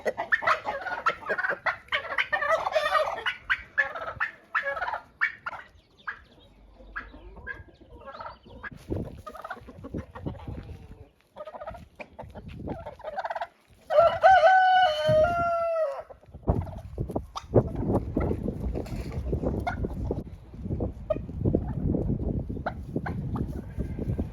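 Chickens in a coop cluck and squawk at close range in an irregular chorus, and one bird gives a longer, drawn-out call partway through.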